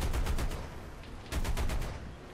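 An armored car in the video game War Thunder fires bursts of gunfire, loud rapid volleys that ease off before a second burst with a rumbling low tail.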